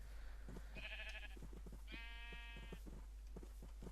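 Two sheep bleats in Minecraft, the first short and the second longer and nasal, each standing out over a steady hum with soft clicks and taps between them.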